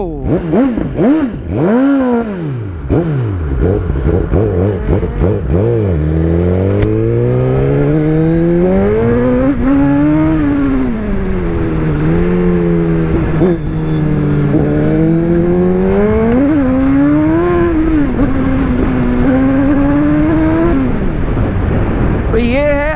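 A superbike's engine revs hard while riding, a loud, close roar that rises and falls in pitch through gear changes across the whole stretch, with wind rush behind it.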